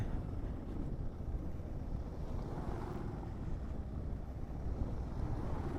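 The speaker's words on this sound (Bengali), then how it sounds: "দিরাং ঢুকতে ঢুকতে যা হাওয়া দিচ্ছে, মাথা খারাপ করা হাওয়া দিচ্ছে" Gale-force wind around Dirang in the Arunachal Pradesh hills roars steadily into the microphone as a dense, unbroken rumble, loud and close with no pauses and no voices.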